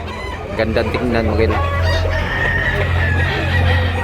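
Roosters and chickens cluck and crow nearby at a crowded market in Tabunok, Cebu, with someone talking over the birds throughout.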